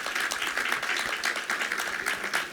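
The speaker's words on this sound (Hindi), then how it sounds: "ये हमारे राजेंद्र जी के लिए तालियां" Sustained applause from an audience at a spiritual retreat gathering, dense steady clapping that stays loud and even from start to finish with no talk over it.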